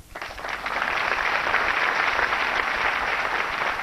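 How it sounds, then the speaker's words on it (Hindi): Studio audience applause swells quickly into a steady, dense wash of many hands clapping, fairly loud and close, holding evenly for several seconds with no talk over it. "एक बार फिर जोरदार तालियां हो जाएं दिनेश और हमारे एक्सपर्ट्स के लिए।"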